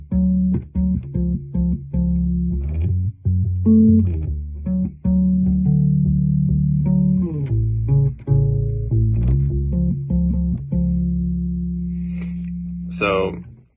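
Bass guitar plays the main riff of a song, a steady run of deep plucked notes with some chordal harmonies, close and continuous, with a short bright squeak near the end.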